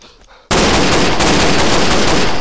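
Rapid, loud automatic gunfire from a Garry's Mod game bursts in after a short quiet moment and keeps going as a dense, continuous stream of shots.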